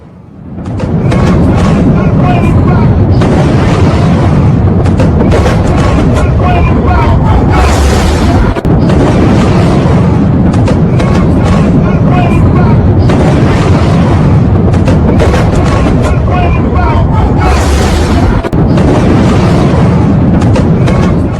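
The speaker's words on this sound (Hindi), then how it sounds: "बहुत सी मिसाइलें जो डिफेंस सिस्टम नहीं रोक पाया, ये आप देख रहे हैं, ये ईरानी हमला है इजराइल पर" Iranian missile strike explosions hitting Israel, heard as loud, sustained rumbling booms and blasts with several sharp peaks over a constant roar, with no talk.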